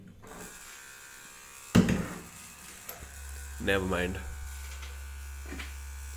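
Motors of a FeiyuTech AK4000 camera gimbal hum with a low, steady electric buzz that starts partway through and continues under brief nearby talk and handling noises.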